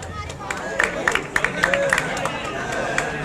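Scattered hand claps rise over a crowd's murmur and voices in a large hall at a university convocation ceremony in Sukkur, brief and uneven rather than a full ovation.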